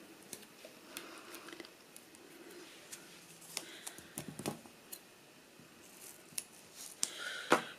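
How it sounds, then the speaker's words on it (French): Scissors snip through foam tape, cutting it into thin strips with a series of small, sharp, close clicks that are soft and scattered, growing a little louder toward the end. "on va venir appliquer du scotch mousse que je vais couper en petites bandelettes très"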